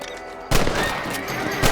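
Rifle shots fired at rabbits in the Red Dead Redemption video game: a loud burst of gunfire starts abruptly after a short quiet, with a second sharp crack near the end and a horse whinny mixed in.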